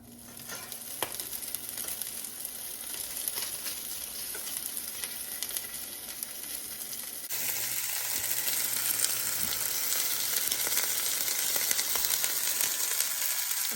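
Meatballs fry in oil in a skillet with a continuous crackling sizzle; partway through, the hiss jumps to a louder, fuller level and holds steady to the end, with no voices.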